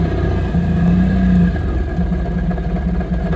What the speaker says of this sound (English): Let's twist the throttle and take it for a spin